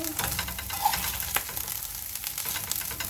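Small omena fish cook in a pan over low heat, a steady crackling sizzle with faint scraping from turning them, heard close up throughout.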